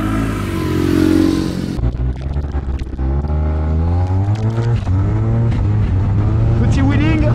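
Yamaha TMAX turbo scooter (GYTR) on a racing circuit, engine revving and pulling hard with rising and falling pitch as it lifts into a wheelie, loud and close, with someone talking over it.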